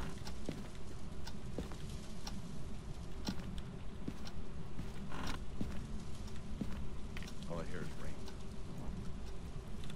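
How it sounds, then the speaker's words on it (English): Steady rain hiss from the ghost-hunting video game Phasmophobia, a constant broadband patter filling the scene, with a few faint clicks and a brief tonal chirp near the end and occasional quiet speech underneath. "Yeah, the rain is loud,"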